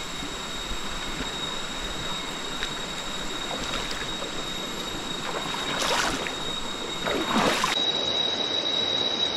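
A mountain river on the Gunung Tahan trail flows in a steady, broad rush of water, close and continuous, with a few louder splashing bursts near the end.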